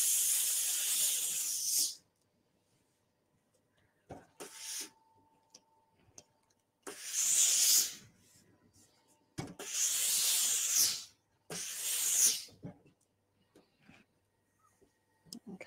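A steam iron presses fabric seam allowances on a sewing project, releasing about five loud bursts of steam hiss. Quiet gaps between the bursts carry small clicks and taps.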